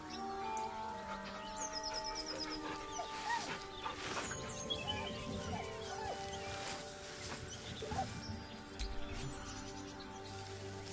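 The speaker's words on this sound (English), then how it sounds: "The dog whimpers nervously" A dog whimpering nervously in the fantasy role-playing game Baldur's Gate 3: soft, intermittent whines and small squeaky cries set against a quiet ambient music bed.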